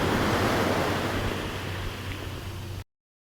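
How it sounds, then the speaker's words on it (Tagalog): Ocean waves break on a shore, a loud continuous roar of surf with wind buffeting the microphone. The sound cuts off abruptly near the end, and no one speaks. "Look at the wave, love!"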